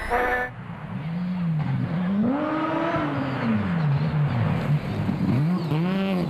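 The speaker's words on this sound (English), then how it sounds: "Have a listen to that rotary." A rotary-engined rally car on a county road stage of the Canterbury Rally, engine droning loud and close with its pitch sweeping up and down through repeated gear changes and accelerations.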